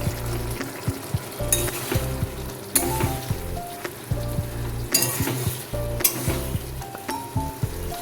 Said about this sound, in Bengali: সয়াবিনটা আর আলুটা মশলার সাথে ভালো করে কষিয়ে নিচ্ছি।